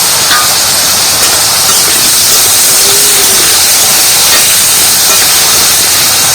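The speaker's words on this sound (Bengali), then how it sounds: "কেটে রাখা বেগুন ছোট ছোট করে সেগুলো ভেজে নেব" Chopped eggplant pieces with a little salt fry in hot oil, a loud, continuous close-up hiss and sizzle that stays even throughout.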